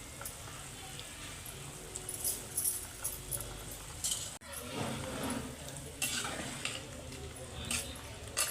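Basmati vegetable rice is stirred in a pot over a quiet sizzle, with a spoon scraping and clinking against the metal in irregular strokes, close by, with no one talking.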